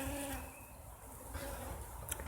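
Bees buzzing around a horizontal Langstroth hive, a continuous close drone that stays steady throughout, with a brief sharper sound near the end.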